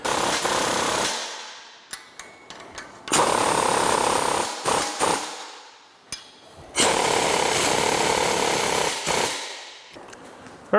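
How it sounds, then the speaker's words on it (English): Power tool snugging bolts while a SnowBear WinterWolf snow plow is mounted, heard as loud, close bursts of buzzing hammering, several runs of a few seconds each separated by short pauses, with no talk. "And then we're going to tighten all these bolts up."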